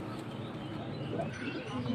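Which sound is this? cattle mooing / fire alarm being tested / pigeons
pigeons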